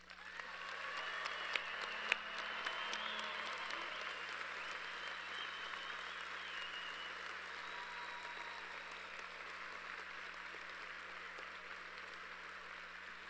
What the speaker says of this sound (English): let's warm up by giving our graduating students a great round of applause